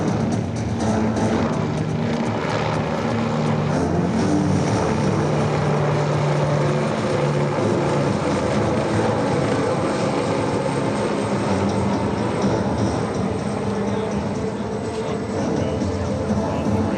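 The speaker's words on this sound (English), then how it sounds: "the TH-73A serves as a training platform for Navy, Marine Corps, and Coast Guard rotary wing training" A TH-73A training helicopter flies past at an air show, its engine and rotor roar holding steady and fairly close throughout, with faint crowd or announcer sound beneath.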